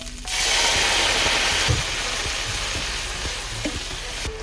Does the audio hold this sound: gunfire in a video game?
no